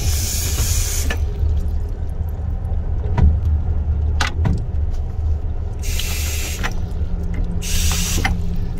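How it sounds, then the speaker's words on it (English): Water runs into a small sink in an Amtrak Silver Meteor roomette, heard as hissing bursts against the steady low rumble of the moving train, with occasional clicks and rattles. "And you have running water"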